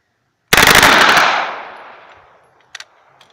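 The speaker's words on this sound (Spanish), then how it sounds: "Vamos a dispararla en ráfaga." A single loud, close burst of automatic fire from an H&K MP5A3 9x19mm submachine gun, rapid shots blending into a roar that rings out and decays, followed by a couple of faint metallic clicks.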